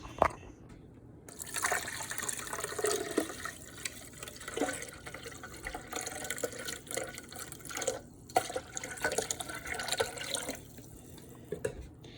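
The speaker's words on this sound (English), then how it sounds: "I'm gonna add the rest of the veggie stock that we had left" Vegetable stock pours steadily into a pot for several seconds, a continuous close splashing and gurgling with small drips and clinks.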